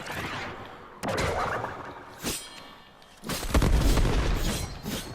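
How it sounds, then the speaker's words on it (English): Booming explosions in the video game Warframe, several heavy bursts with broadband rumble arriving in quick succession during combat, loud and close, with a dense cluster near the end. "Oh, look at all these explosions around me."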